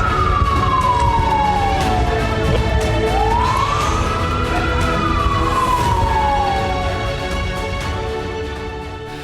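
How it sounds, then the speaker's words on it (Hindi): A loud wailing air raid siren in Israel slowly rising and falling in pitch, continuous over a steady background rumble, fading slightly toward the end. "इजराइल में वॉर सायरन बजने लगे।"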